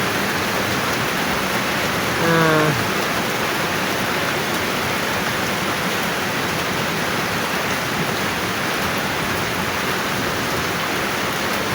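Heavy rain pours down in a dense, unbroken roar that fills the whole stretch, with a brief voice sounding once early on.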